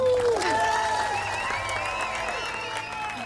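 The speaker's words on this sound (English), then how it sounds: "I want to hear a huge round of applause for our students from Los Angeles, Santa Bootcamp." An audience applauds and cheers for bootcamp students, crowd noise spread under music and tonal sounds that sweep and glide across the clip, fairly loud and continuous.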